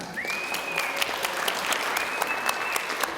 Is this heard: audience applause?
yes